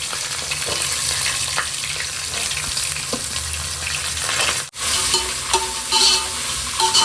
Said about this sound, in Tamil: இது ஒரு 10 நிமிஷம் வதங்கணும்.